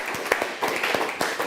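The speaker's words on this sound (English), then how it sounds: "we give a big applause to the rest of you guys that are here to learn" Audience applause at a seminar, a steady crowd clapping that sounds moderately near and continues evenly throughout without talk.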